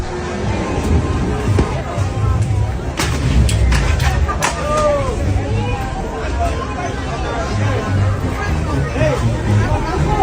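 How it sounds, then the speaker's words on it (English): Loud, dense crowd at an anti-ICE street protest: a continuous roar of many voices with raised shouts, and a few sharp bangs partway through. "The chants are loud,"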